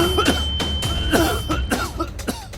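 A human voice imitates a sickly tiefling coughing, with a run of rough, raspy cough bursts in quick, uneven succession, close and fairly loud.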